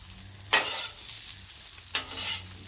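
Omelets fry on a Blackstone griddle with a soft continuous sizzle, broken by two sharp spatula scrapes across the flat-top surface.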